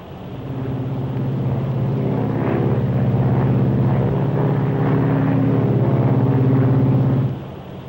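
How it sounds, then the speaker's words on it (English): A steady, loud propeller drone hums inside the cabin of a Lockheed Super Constellation airliner in flight in 1953, a low throbbing tone holding constant before fading slightly at the end. "It's a wonderful airplane, that Silver Falcon"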